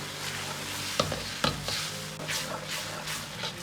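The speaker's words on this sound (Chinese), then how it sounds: "用勺子稍微多推动下" Tomato sauce with oyster sauce and winter melon broth being pushed around a wok with a spoon, a low bubbling sizzle with a few sharp scrapes and knocks of the spoon, close up, no voices.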